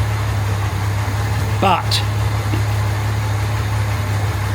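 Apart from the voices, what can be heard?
Jaguar MKII car engine idling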